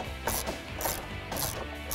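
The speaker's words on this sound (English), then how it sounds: "Now you can take a 3/16 inch Allen key and tighten down our bottom two bolts." A 3/16 inch Allen key tightens the lower bolts on tubular fender flares of a 2007-2018 Jeep Wrangler JK, giving a close ratcheting mechanical clicking in four evenly spaced bursts.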